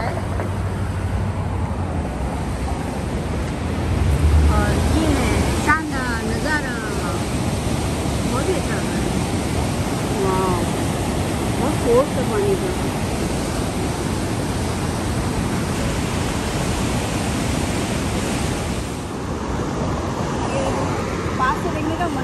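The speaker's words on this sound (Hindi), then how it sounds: "यहाँ से पानी कितना फोर्स से आ रहा है" A forceful waterfall in Galt, Cambridge, its broad loud roar of rushing water steady throughout, with a person talking over it and faint passing traffic mixed in.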